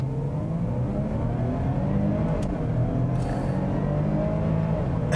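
A 2017 Land Rover Discovery HSE Lux with a supercharged V6 and ZF 8-speed automatic drives on the road, giving a steady, continuous engine and road drone with no talk.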